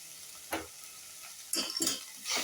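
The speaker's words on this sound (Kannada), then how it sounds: "ಜೊತೆಯಲ್ಲೇ ಈರುಳ್ಳಿ ಕೂಡ ಹಾಕ್ತೀನಿ, ಹಂಗೆ ಕ್ಯಾಪ್ಸಿಕಮ್ ಕೂಡ ಹಾಕ್ತೀನಿ" Onion and capsicum frying in a pan with tofu, a soft steady sizzle stirred in bursts, with louder scraping clatter near the middle and end, no talking.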